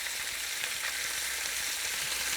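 Turkey wings fry in oil in a Dutch oven, making a steady, dense hiss of sizzling that stays even and close throughout.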